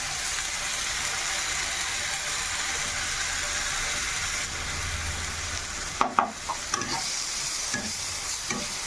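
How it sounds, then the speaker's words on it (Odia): Masala with ginger garlic paste sizzles steadily in a hot pan for a fish head chenchada, a constant close frying hiss, with a few clinks of stirring near the end. "ଦେଖିପାରୁଥିବେ ମସଲା ଭଜା ଚାଲିଛି"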